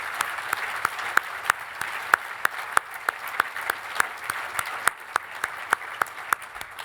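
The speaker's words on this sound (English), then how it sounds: "let's give everyone involved in this process a round of applause" At a gala for fallen patriots, a modest audience gives a round of applause, with individual claps standing out distinctly against a softer bed of clapping, fairly close and steady throughout.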